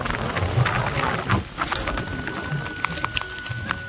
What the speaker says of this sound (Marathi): खतरनाक पाऊस आलेला आहे त्या बाजूनी